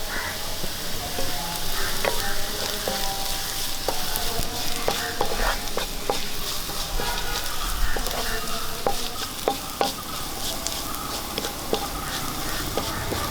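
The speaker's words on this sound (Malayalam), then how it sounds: "ഇനി നമുക്ക് ഇതിലേക്ക് ശല വറ്റൽമുളക് ചേർത്ത് ഇട്ട് കൊടുക്കാം" Dried red chillies crackle and sizzle in hot oil in a pan with curry leaves, stirred with steady scraping clicks and sharp pops over a continuous close frying hiss, no voices.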